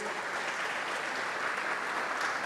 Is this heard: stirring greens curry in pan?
no